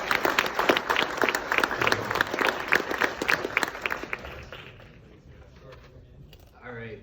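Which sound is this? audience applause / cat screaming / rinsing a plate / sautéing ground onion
audience applause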